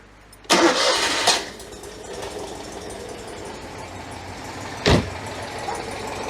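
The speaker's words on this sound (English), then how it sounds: "What a sweet little engine that is." A Citroen 2CV's replacement engine cranks and fires with a short loud burst, settles into a light, fast idle, then gets a brief blip of throttle, heard close up with no talking.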